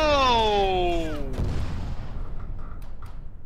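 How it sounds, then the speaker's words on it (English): Gunfire in the video game Arma 3: a loud boom or shot with a falling whistle-like tone early on, followed by a rumbling tail and faint distant crackles. "I'm shooting at his buddies now."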